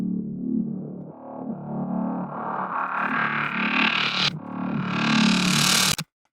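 A Roland Juno synthesizer plays a thick, detuned, grungy patch, loud and sustained, its tone brightening steadily over several seconds before a sharp cutoff at the end.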